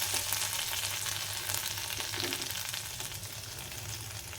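Crushed idli being stirred into a hot tempering in a pan, with a continuous sizzle and soft scraping running steadily throughout and no voices.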